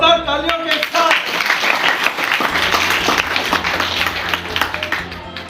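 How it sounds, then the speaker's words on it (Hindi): Loud applause from an audience at a school farewell ceremony for staff, dense clapping that swells and stays steady, with a low hum and some voices mixed in. "जोरदार तालियों के साथ"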